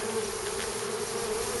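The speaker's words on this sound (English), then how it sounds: "Queen's gonna be somewhere in that clump of bees right there." A dense, steady hum of a swarm of honey bees buzzing together in a clump, close and continuous with no pauses.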